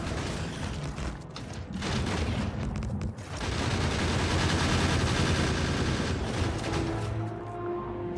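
Gun turrets firing in the video game Factorio make a dense, continuous rattle of rapid shots mixed with mechanical clatter, loud and sustained for most of the stretch, with no speech.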